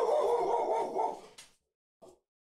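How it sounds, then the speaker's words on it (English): A small reactive pet dog barks indoors, a run of loud, dense barking for about a second and a half, then silence broken by one short, softer yelp. "She will bark at any dog she sees out the window or any postman she hears or any noise"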